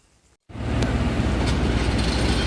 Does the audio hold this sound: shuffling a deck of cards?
no